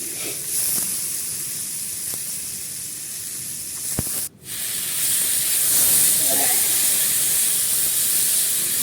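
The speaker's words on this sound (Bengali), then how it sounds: "ভালো করে ও একটু জল দিয়ে দিয়ে কিন্তু কষিয়ে নিচ্ছে।" Peas sizzling in a pan as a little water is added during sautéing, a strong steamy hiss that briefly cuts out then returns louder and steadier, close by.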